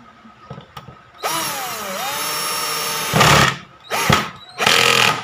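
A Black and Decker GC1800 drill drives a screw into lumber. The motor whirs up, its pitch swoops and steadies, then it cuts out, followed by a few loud, short bursts of spinning.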